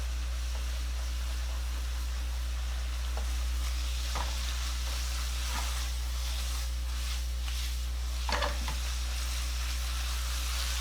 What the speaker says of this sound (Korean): 다진 생강 3분의 1스푼 이렇게 넣고 일단 먼저 한번 섞어요